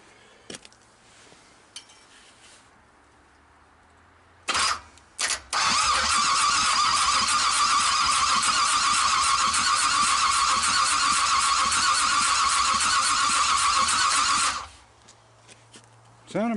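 A 427 big block engine for a 1959 Triumph project turns over after a few faint clicks, catches, and roars loudly for about ten seconds before cutting off; brief sounds come before the start.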